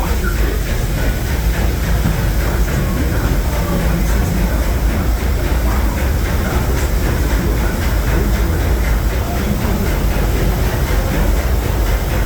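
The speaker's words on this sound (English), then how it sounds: "welcome aboard the Disneyland Railroad" The Disneyland Railroad train Holiday 5 Blue rolls through the rain, its loud steady rumble and hiss running unbroken, with faint rhythmic clatter underneath.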